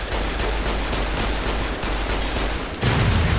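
A plasma grenade goes off in Fallout: New Vegas amid loud, dense combat noise, with a rumbling blast that swells heavily near the end of the short stretch.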